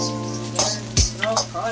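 Broccoli sautés in a pan with a steady hiss of frying, broken by a few sharp clinks and scrapes of a utensil against the pan, under a constant electrical hum.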